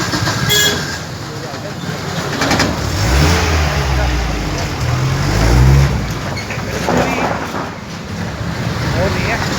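A Mahindra Thar rolls past on a rural road by farm fields, its engine rising and fading as a loud, steady rumble with wind noise throughout.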